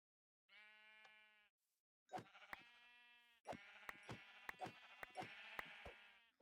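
Sheep in a modded Minecraft world bleat several times in short, separate calls, quiet at first and then a rapid cluster of bleats with clicking game sounds between them.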